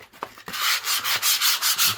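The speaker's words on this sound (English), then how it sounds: "I'm going to sand them all down now." Sanding painted plywood panels by hand, a series of rhythmic rasping strokes back and forth, close and fairly loud, with no talking.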